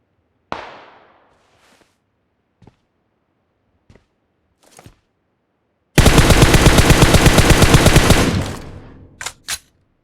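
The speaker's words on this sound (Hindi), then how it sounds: "पीछे से भी गोलियाँ चल रही होती है" Gunfire in PUBG Mobile: a few scattered single shots and a loud near explosive crack, then a sustained rapid automatic burst lasting about two seconds, followed by two more sharp shots.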